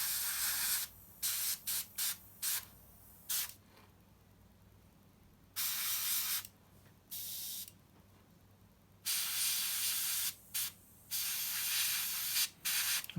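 Lacquer paint sprayed onto a Tamiya 1/48 scale P-47D Thunderbolt Razorback model kit: a series of close, steady hissing spray bursts, some short and quick, others lasting a couple of seconds, separated by quiet gaps.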